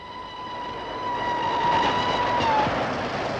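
A train stands at a British railway station in 1959, a steady rumbling hum with a sustained whistle-like tone that swells, holds and then fades as the noise grows slightly louder, with no voices.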